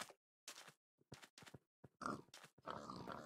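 Pigs in Minecraft give short, separate grunts in a quick irregular series, close and fairly quiet, with brief silences between them.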